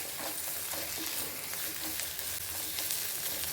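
Onion and spinach curry, just seasoned with garam masala, being stirred in an iron kadai: a continuous close sizzle and fry with a scraping stir running through it, and no talking.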